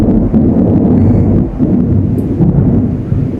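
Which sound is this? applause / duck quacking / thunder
thunder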